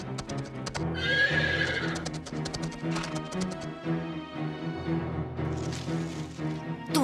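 Horses whinny and neigh repeatedly over rapid clip-clopping hoofbeats as riders mount up, several animals close by in a busy, galloping commotion in an animated cartoon.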